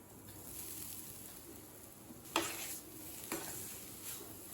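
Grated coconut sautéing in ghee in a pan, a soft low sizzle with a couple of sharp stirring scrapes against the pan, fairly quiet and without talk.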